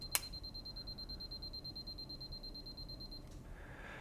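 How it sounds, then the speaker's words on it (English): Battery check on a Canon AE-1 Program film camera: a click, then a sustained high electronic beep lasting about three seconds before cutting off, close and clear against a quiet room. "This is the battery check. So it'll make quite a loud noise."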